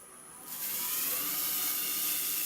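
A Merlin 2 rotary carving tool spins up and burnishes a carved wood surface with a handful of wood shavings, giving a high, steady whirring hiss that rises sharply after a moment and holds loud and close.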